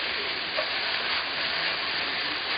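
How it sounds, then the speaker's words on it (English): Onions sautéing and being tossed in a pan, a soft even sizzle with faint shifting hiss, no voices. "saute them on top, using the toss because I don't want to damage my pan too much"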